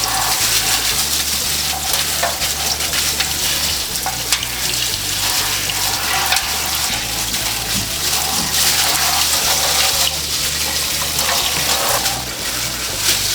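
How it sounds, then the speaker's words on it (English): Steady water runs from a tap into a clean sink as a corned beef brisket is rinsed, a continuous loud splashing hiss with no talk. "in a clean sink, just gonna rinse this off."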